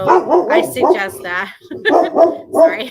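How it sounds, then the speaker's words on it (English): A dog at the Gettysburg battlefield barks and yips in short clustered bursts, close and fairly loud, with talk over and around the barking. "That's a real dog."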